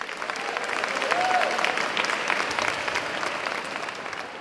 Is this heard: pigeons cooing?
no